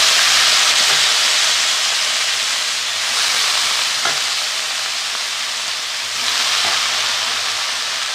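Dry red chili and nigella seeds sizzle steadily in hot oil, a loud, close, continuous frying hiss with faint crackles and no voices over it.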